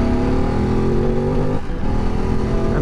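A Ducati DesertX motorcycle engine runs loud and close as the bike starts rolling off-road in Colorado, a steady rumbling drone with a brief dip in the middle before it pulls on again.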